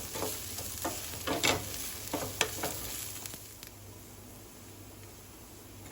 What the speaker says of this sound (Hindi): इन सब मसालों को हम अच्छे से भून लेंगे